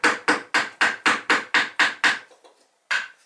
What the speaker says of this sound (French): on creuse la mortaise.